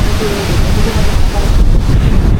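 Strong wind on Boracay roars and buffets against the microphone, a loud continuous rushing noise with no clear voices.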